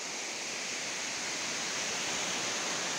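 An underground waterfall, its stream diverted to make way for a railway track, roars as a dense, steady rush of water close by, constant and broadband with no voices.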